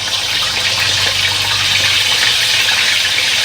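Tilapia frying in hot oil with fish sauce, a loud, continuous sizzle with a broad hiss that holds steady for several seconds close up, with no speech over it.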